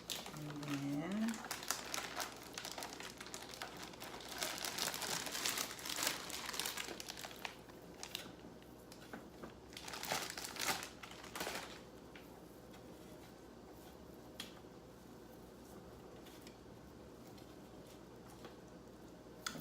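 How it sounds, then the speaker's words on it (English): A paper-lined ice cream bag being torn open down the side and crinkled, loud bursts of crumpling and rustling in the first half, then sparse quiet crinkles and ticks, with a voice speaking over it. "To make this easier, you can kind of just tear the bag down the side."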